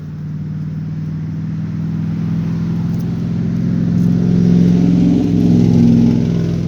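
A loud truck engine revs and rumbles steadily nearby, its low growl swelling slightly toward the end, with no talking.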